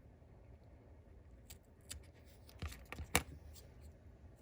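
Scissors snip away leftover craft material on a small angel flower ornament: a few faint, sharp cuts that cluster toward the end over a quiet room.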